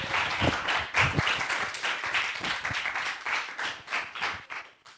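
Audience applause after student final presentations, a room of clapping hands that starts strong and thins toward the end, with a few louder individual claps near the start and no clear talk over it.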